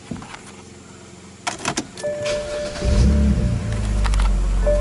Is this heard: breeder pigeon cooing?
no